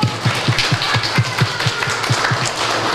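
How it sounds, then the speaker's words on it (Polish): A crowd claps in steady, rhythmic unison at a Christmas Eve gathering at a Franciscan children's aid centre in Głubczyce, close and fairly loud, with no talk over it. "wielkie brawa dla naszych wolontariuszy"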